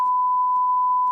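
A single steady censor beep, one loud pure tone held unbroken for about a second, alone with no talk.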